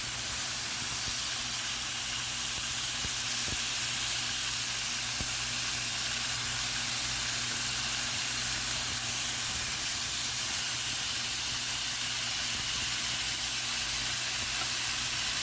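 NY strip steaks sizzle on a Ninja Woodfire grill with a steady, dense hiss that holds evenly for the whole stretch, a low hum running underneath and no talking.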